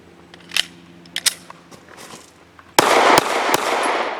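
An M&P Shield pistol fitted with an L2D barrel fires a Browning 147 grain round, a loud, sharp blast following a few faint clicks and handling noises.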